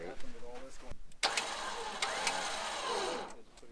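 The engine of a huge off-road wrecker truck cranks and fires up, a brief rough start that settles into a loud steady running note, with people talking over it at the start.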